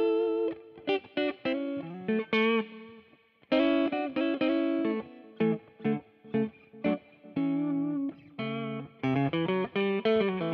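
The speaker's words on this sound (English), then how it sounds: "We'll start with the clean tones. We'll go neck pickup, middle position," Gibson Custom Shop Johnny A. Signature electric guitar on its neck pickup with a clean tone, played as a series of plucked chords and single notes with short gaps, near and alone.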